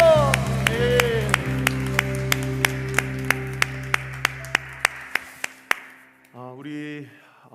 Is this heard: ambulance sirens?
no